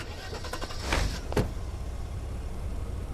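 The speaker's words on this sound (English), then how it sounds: "The car drove off." In 428 Shibuya Scramble, a car gives a couple of sharp mechanical clunks, then settles into a low, steady engine rumble as it pulls away, fairly close and without talk.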